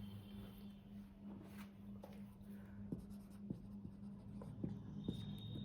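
Chalk or marker strokes on a classroom board during a history lesson, a series of soft scratching taps with a steady low hum underneath and no talking.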